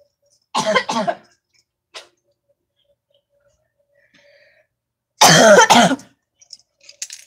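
Two harsh coughing fits close by, each a quick cluster of rough coughs, separated by a few seconds of near silence with faint small noises.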